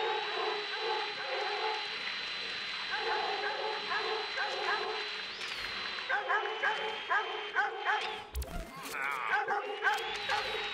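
A dog in the video game Watch Dogs 2 barks and yips in several short bursts, with a whimper, mixed with game music and sound effects.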